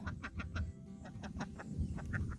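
Several laying ducks quack close by in quick, repeated bursts, a busy chorus over a low shuffling rumble.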